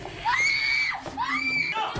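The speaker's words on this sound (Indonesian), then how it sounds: "Ia pun berteriak ketakutan." A woman in a horror film lets out two long, piercing, high-pitched screams of fear, the first rising and holding, then a brief gasp-like break before a second, slightly quieter wail.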